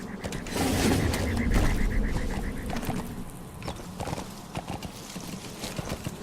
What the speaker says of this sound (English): Spawn horse.